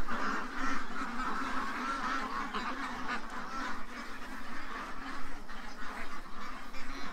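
A group of ducks quacking continuously and fairly close, a busy overlapping chatter of calls with no talking.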